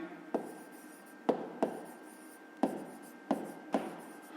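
A pen or pencil writes on paper in short separate strokes, about seven quiet scratches at an uneven pace, close to the microphone over a low steady hum.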